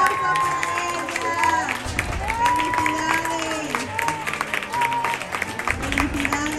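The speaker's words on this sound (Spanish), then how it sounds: "Un fuerte aplauso para ella." A crowd at a school costume contest for Día de Todos los Santos in Tamazula, Jalisco, claps and cheers for the winner. The clapping is loud and busy, mixed with crowd chatter and a microphone voice.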